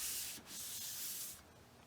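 Drywall being hand-sanded over a fresh skim coat, close rasping strokes in two bursts with a short pause between, no voices.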